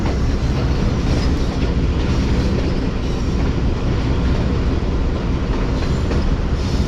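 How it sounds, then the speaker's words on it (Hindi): A Subak Raftar railcar rolls into Jhelum railway station toward the main platform, giving a steady, loud rumble with a faint clickety-clack of wheels on rails throughout and no voices. "ट्रेन हमारी जहलम रेलवे स्टेशन के मेन प्लेटफॉर्म यानी प्लेटफॉर्म नंबर 2 की तरफ बढ़ते हुए"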